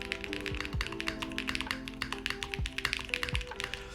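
Mechanical keyboard with pink Robbins switches, Novel Keys keycaps and a copper bottom gives quick, close clacky keystrokes in irregular bursts, fairly quiet and with no talking.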